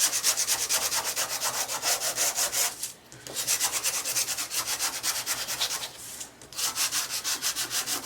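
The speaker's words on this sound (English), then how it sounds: "just take a nail file and you can show all the whites by filing that down." A nail file rasps steadily across the edges of white cardstock, close and even, in quick rhythmic back-and-forth strokes with two brief pauses.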